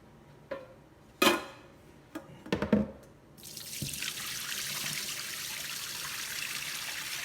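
Water runs steadily from a kitchen tap into a sink while hot blanched green beans are drained. A few clanks of a pot and colander come first, then the water gushes alone at close range.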